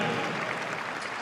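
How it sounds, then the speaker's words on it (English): An audience applauds at a figure skating event in an arena, a dense, steady wash of clapping from many hands, close and sustained with no voices over it. "I think a round of applause for these young,"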